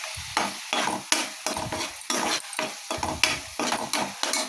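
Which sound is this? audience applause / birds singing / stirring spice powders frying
stirring spice powders frying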